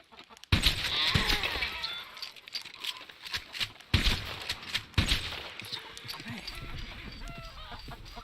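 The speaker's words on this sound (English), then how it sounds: "The chickens attack you." Chickens squawk and cluck in sharp, loud bursts with flapping commotion as birds are handled for sampling, then settle into quieter clucks.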